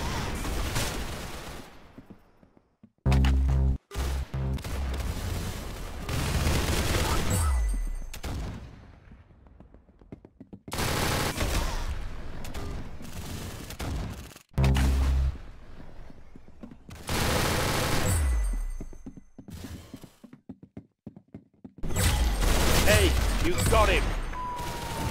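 Gunfire from the Roblox shooter Arsenal comes in repeated loud bursts of rapid shots separated by short quieter gaps, mixed with game effects and occasional talk.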